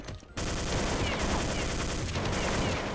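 Rapid automatic gunfire in Counter-Strike 1.6, starting abruptly after a brief quiet moment and continuing as a loud, dense burst of shots with no pause until the end.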